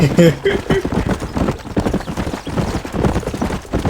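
Horse hooves clip-clop in a steady galloping rhythm in the video game Red Dead Redemption, close and fairly loud, with a short whinny near the start and voices talking over the hoofbeats.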